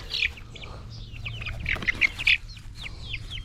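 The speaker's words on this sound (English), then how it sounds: "So our first batch of chickens are ready to come out." Young chickens from a first batch give short, high chirps and peeps in quick irregular bursts, close and fairly clear over a low background hum.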